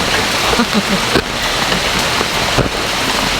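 Heavy rain pours steadily close by, a loud continuous patter with a couple of sharper drop hits and no talk over it.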